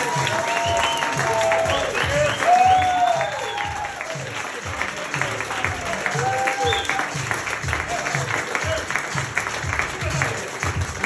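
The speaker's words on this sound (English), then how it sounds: "keep that applause going for tonight's players" Audience applause and cheering at a live comedy show for the night's players, a dense steady roar of clapping with a few voices calling out, loud throughout.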